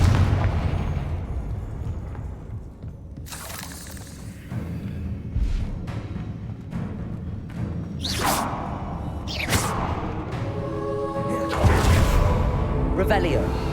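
Confringo fire spells in Hogwarts Legacy burst with whooshing blasts and booms at irregular intervals over continuous battle noise, while a voice talks through the fight.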